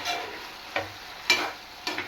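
A spoon stirs chicken gravy in a pan with a few brief, soft scraping strokes spaced apart; there is a faint background hiss and no talking.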